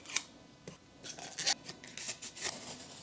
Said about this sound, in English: So we're gonna try carving it with the X-Acto knife and see if that works.